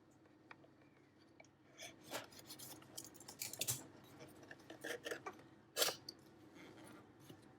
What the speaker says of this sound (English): now let's cut the seal over here.